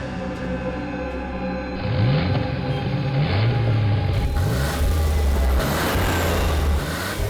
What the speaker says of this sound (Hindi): ये गाड़ी हमारी तरफ क्यों घूम गई है?